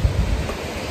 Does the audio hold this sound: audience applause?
no